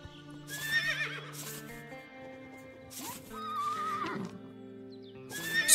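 A horse whinnies several times, close and clear, in the video game Above Snakes. Soft hoof clops and a steady musical backdrop sit underneath.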